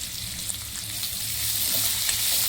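Onion frying with salt in a pan, a steady bright sizzle with soft stirring scrapes, continuous and close, with no talk.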